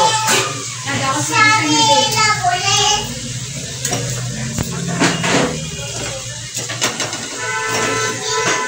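Fish sizzling in a pan with spices and black vinegar, a moderate, continuous frying hiss under someone speaking throughout.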